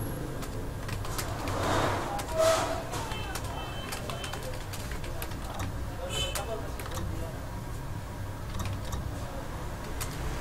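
Keys click on a computer keyboard during practice in typing software, an irregular patter of quick taps over about ten seconds with a low background hum and occasional louder knocks.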